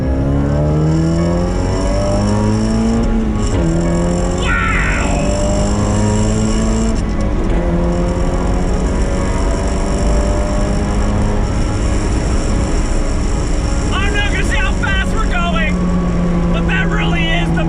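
A supercharged Mazda Miata NA engine revs hard through second and third gear, pitch rising then dropping at each shift, loud and close, with a voice heard over it.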